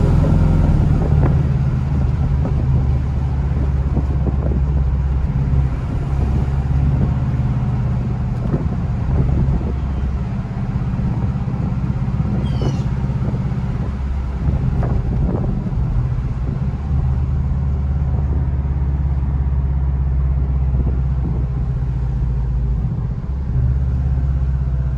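Porsche 718 Boxster mid-engine sports car on the move, a steady low engine and road rumble with wind noise running continuously and evenly throughout, no talking.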